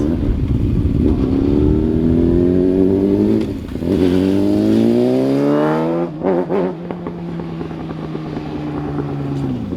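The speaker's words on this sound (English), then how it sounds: "The goon's ripping the bike." A Yamaha R6 sport motorcycle is ridden hard, its engine revving high and loud with rising pitch sweeps, a brief drop and stutter midway, then climbing again and holding a strong whine close by, with no talk over it.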